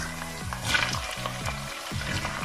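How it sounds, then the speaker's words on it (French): Green beans frying in hot oil in a pan, added after potatoes for a traditional Greek Lenten dish, giving a steady sizzle with several sliding scrapes of a stirring utensil, close and moderately loud, with no talking. "Je mets mes haricots verts."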